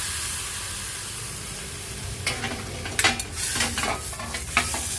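Hot tempering oil with asafoetida is poured onto a shevla and masoor vegetable dish with a sudden crackling sizzle, bursts of spitting hiss flaring repeatedly after a quiet stretch of low background noise.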